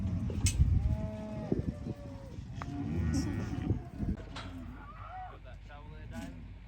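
Cattle moo repeatedly during a muster of about 600 head, several drawn-out calls overlapping amid general herd noise, with people talking in the background.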